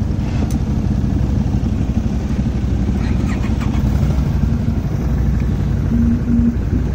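A steady, loud off-road vehicle engine rumbles continuously while riding over desert terrain in the Johnson Valley OHV area near Lucerne Valley, California, a close, unbroken drone with no talk.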